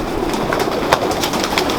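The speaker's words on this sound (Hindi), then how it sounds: "ये हमारे कबूतर हैं जी, बहुत सादा से कबूतर हैं" Soft, repeated pigeon coos close by, rising and falling in a gentle rhythm over a constant background hiss.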